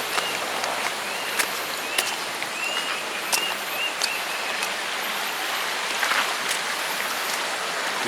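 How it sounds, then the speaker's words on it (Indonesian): Small clear mountain stream running beside a rocky footpath toward the Grenjengan Sewu waterfall, a steady broadband rush of flowing water with occasional brief splashy clicks, close and continuous with no talk. "Di sepanjang jalan menuju ke air terjun ini ada sungai-sungai kecil ini."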